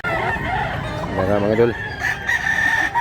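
Roosters crow nearby at a morning market where fighting cocks are offered for sale, with one brief crow standing out against a background of clucking fowl, while someone speaks over it.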